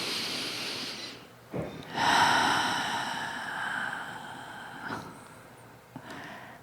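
A person in a quiet guided meditation breathes slowly and audibly, with soft airy inhales and exhales and a couple of short sharp sniffs, close and alone without talk.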